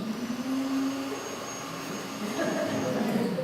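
A heater runs steadily in the room during a township school levy town hall meeting, giving a continuous broadband whir with a low hum, joined by faint talk in the later part.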